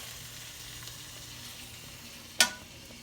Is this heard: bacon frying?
yes